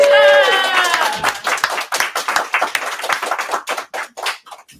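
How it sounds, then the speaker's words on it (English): An auction audience applauds the artist Alicia with a burst of close, lively clapping that follows a brief voice and trails off into scattered claps. "big round of applause for Alicia"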